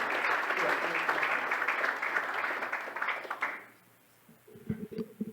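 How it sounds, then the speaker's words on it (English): Dense applause from a gala audience at a coastal-protection honors event, holding steady for about three and a half seconds, then dropping off sharply before a voice begins speaking. "I know we're doing a lot of clapping"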